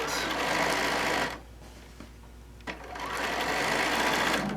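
A sewing machine stitching a fat-quarter tote bag with a lengthened stitch runs in loud steady bursts, pauses briefly with a few small clicks, then resumes running near and alone.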